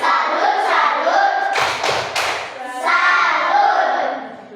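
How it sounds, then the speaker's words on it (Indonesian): A classroom of students doing a rhythmic cheering clap together, with their voices chanting over the claps and a few sharp thumping hits in the middle. "Kita tepuk salut untuk kelompok harapan."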